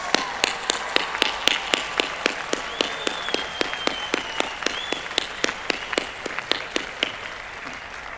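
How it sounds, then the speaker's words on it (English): A crowd applauds at Miami University's 183rd spring commencement for the class of 2022. Sharp, evenly spaced claps from a nearby pair of hands beat steadily over a softer wash of applause from the wider audience. "give a big round of applause to all those that supported you"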